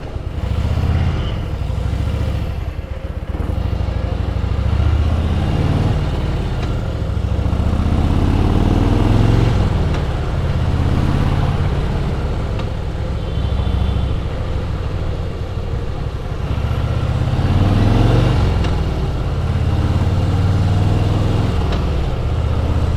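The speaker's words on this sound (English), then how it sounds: "Just love being on this motorcycle" Motorcycle riding on the road, a steady engine drone with rising and falling revs and wind rush throughout, loud and continuous with no talk.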